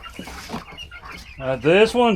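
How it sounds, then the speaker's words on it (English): A black Americana hen gives a couple of short, nasal clucking calls near the end, close by, after a quieter stretch of faint rustling and murmuring. "This is another black Americana hen."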